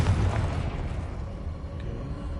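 Blast from the Confringo spell in the game Hogwarts Legacy: a dull boom up front that trails off into a low, steady rumble over a couple of seconds, without speech.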